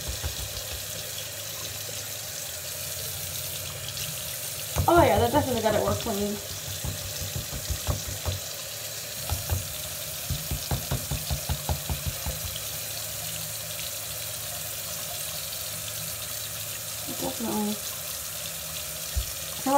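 Tap water runs into a sink while makeup brushes are rinsed clean, a brief loud gush followed by intermittent splashing and trickling, with someone speaking over it.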